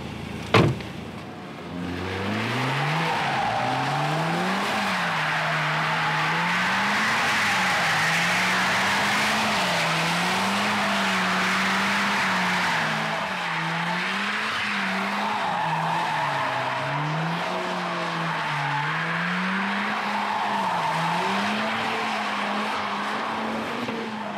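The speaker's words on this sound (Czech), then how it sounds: "Zmačknete brzdu, podržíte si pedály, podržíte si pádla, pardon, a sepne se vám drift mod, dáte plusko, drift mod je aktivní." A Mercedes CLA AMG 45S with a 421-horsepower four-cylinder engine drifts in drift mode, tires squealing in a long, wavering screech that rises and falls steadily for over twenty seconds after a sharp opening click.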